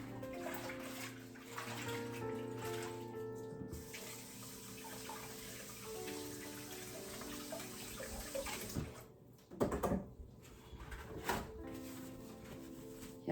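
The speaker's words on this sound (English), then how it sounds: "Let me wash my hands again." Tap water runs steadily for hands being washed at a kitchen sink while a roast chicken dinner is prepared, a continuous splashing stream with a brief break and some clatter near the end.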